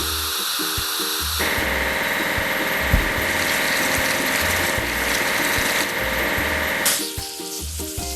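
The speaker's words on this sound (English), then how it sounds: "Excavator." Excavator engine in a mobile bridge-building game, a loud steady synthetic engine drone running for several seconds between bursts of rhythmic low electronic beats, with no talk.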